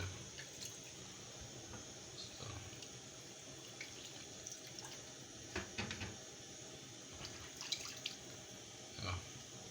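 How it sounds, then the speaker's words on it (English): A kitchen tap runs while fish is washed for banga soup. Water splashes and trickles steadily into a sink, with faint clinks and drips, fairly quiet and alone. "I still use water to wash it."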